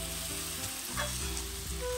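Spice masala fries in a pan while it is stirred, giving a loud, steady, close sizzle that runs the whole time with a faint low hum underneath and no talk.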